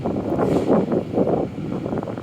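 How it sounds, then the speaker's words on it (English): Strong wind buffeting the microphone in low, rumbling gusts that swell and ease, loud and continuous with no voices. "Oh, it's really windy here."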